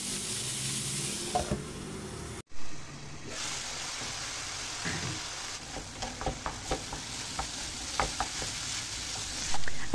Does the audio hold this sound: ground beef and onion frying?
yes